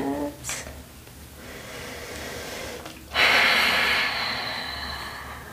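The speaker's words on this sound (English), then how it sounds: "Breathing." Heavy, airy breathing during a slow standing stretch in ragdoll pose, close and intimate, with a softer breath early on and a louder, sustained exhale-like rush in the second half.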